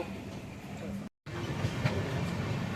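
Muffled rumble and rattle of the Madurai Express heard from inside, steady and continuous, briefly cut off before resuming.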